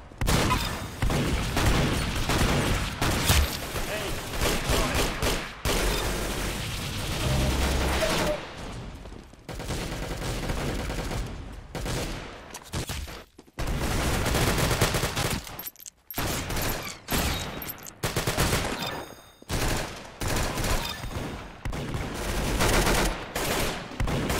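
Rapid, loud automatic gunfire from a weapon in a video game, dense bursts of shots with brief gaps and several sharp pauses, filling nearly the whole stretch.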